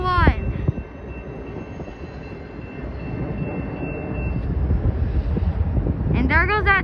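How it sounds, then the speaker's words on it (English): A PHI doubleheader freight train, led by two locomotives, rumbles past heading south. The horn sounds at the start and again at the end over continuous wheel and car noise, with wind buffeting the microphone throughout. "And there goes that train, guys, south to Chicago."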